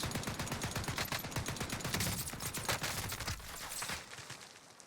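Rapid bursts of Bren gun fire in Warzone, a dense crackling stream of shots that continues steadily and tapers off near the end, moderately loud with no talk.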